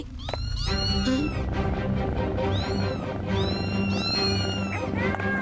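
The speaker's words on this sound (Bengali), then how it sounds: "রুদ্রা, উলফ প্ল্যানেটে এতগুলো ডেঞ্জারাস বিড়াল কি করছে?" Cartoon cats on a wolf planet yowl and meow over and over, loud and near, the calls overlapping above a steady, dense music bed.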